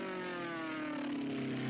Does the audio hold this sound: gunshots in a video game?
no